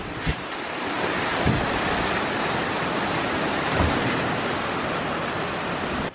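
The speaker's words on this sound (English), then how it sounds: "There is a crazy storm coming in." Storm wind roars steadily outside a shop at night, a dense unbroken rushing like heavy rain or surf, loud and constant with a few faint knocks, and no one talking.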